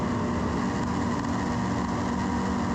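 A racing engine revs steadily at the start line of a motocross-style race, a continuous buzzing drone held at high RPM, loud and unbroken for a few seconds with no voices.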